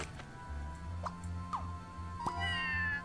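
Cartoon cats in Scribblenauts Unlimited give several short, separate meows spaced about half a second apart over a low, steady game hum, with faint ticking in the background.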